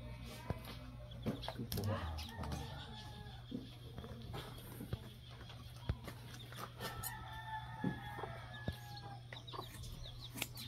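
Chickens cluck and a rooster crows nearby in a Philippine farmyard, with scattered farmyard noises and people talking quietly in the background.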